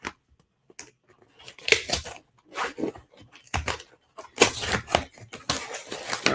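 A K390 Dragonfly knife slices through the tape on an Amazon package in short, sharp bursts of scraping and tearing, close up, with brief pauses between strokes.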